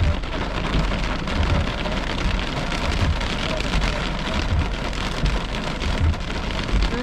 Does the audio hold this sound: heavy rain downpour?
yes